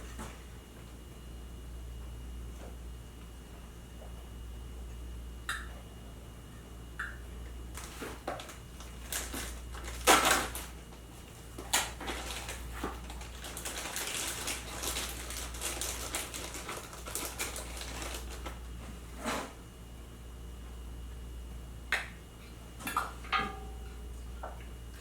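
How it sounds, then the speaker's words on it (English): Metal canning lids set onto clean, vinegar-wiped jar rims for smoked venison bone broth, heard as a few sparse, light clinks and taps over a quiet kitchen hum, with no talking. "we're gonna throw our lids on there"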